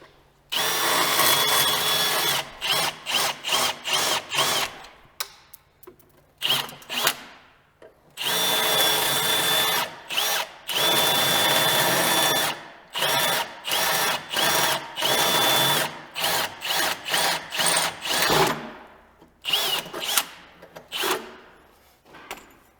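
A power drill bores out two factory rivets on a snowmobile during a Skinz bumper and bash plate install, running in repeated loud close bursts with short pauses, some with a steady high whine.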